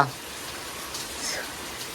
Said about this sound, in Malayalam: രാവിലെ തന്നെ നിർത്താതെ പൊരിഞ്ഞ മഴ